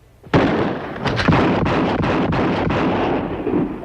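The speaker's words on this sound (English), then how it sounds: "5 shots, 5 seconds." Rifle fire at a target, five quick shots within about five seconds: a sharp loud blast followed by rapid booming reports that blur into a dense, echoing roar, close and alone without speech.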